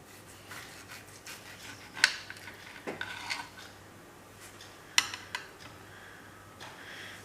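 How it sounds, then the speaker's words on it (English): A knife slices through an orange on a cutting board for marmalade, giving soft cutting rubs and a few sharp knocks of the blade against the board, close and fairly quiet. "I'm going to try and cut them a bit more, just about 16 slices"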